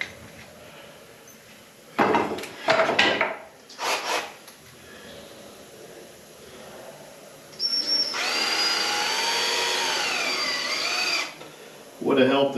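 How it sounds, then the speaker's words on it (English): Power drill driving screws into wooden casting gating in a workshop, with two short bursts of drilling near the start and a longer steady whine later, loud and close. "Just get these screws in here real quick."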